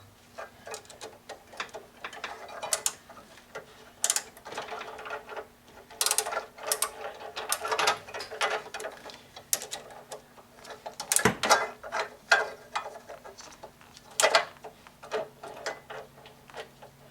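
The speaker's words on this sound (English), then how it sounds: "I've got the other tool set up on my torque wrench for the final torque." A torque wrench ratchets on a nut of a Volkswagen Thing during oil filler and gasket work, giving close, irregular bursts of sharp mechanical clicks with short pauses and no talk.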